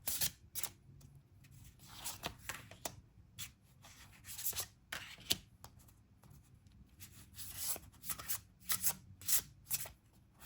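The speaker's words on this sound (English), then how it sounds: "I'm going to be drawing some oracle cards from Magical Spirit" Oracle cards from the Magical Spirit Oracle deck being shuffled and drawn, heard as a run of quick, close papery riffles and rubbing bursts that come in uneven clusters, with short quiet gaps between them.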